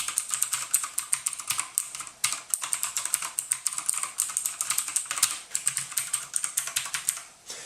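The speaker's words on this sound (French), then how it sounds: "Ils sont aussi plus bruyants. Ils font un petit son qui rappelle les machines à écrire" Rapid typing on a Victsing i-900 mechanical QWERTY keyboard, crisp clicky keystrokes in quick irregular bursts with short pauses, close and alone.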